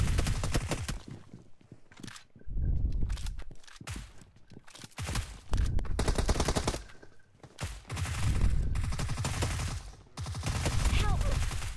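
Bursts of automatic gunfire in the mobile battle royale game PUBG Mobile come in several sustained volleys separated by brief quiet gaps, with occasional footsteps between them.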